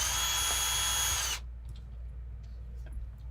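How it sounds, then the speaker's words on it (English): A cordless power drill whirs loudly at a steady high pitch for over a second, then cuts off, leaving quiet workshop room tone with faint clicks while working on a TRX4 RC crawler. "So let's get our drill going and off we go."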